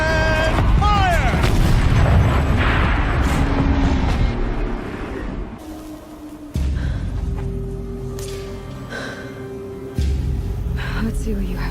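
A turret firing in a Horizon Zero Dawn cinematic cutscene, heavy booming blasts and thuds among sweeping electronic tones and music, with voices speaking between the shots.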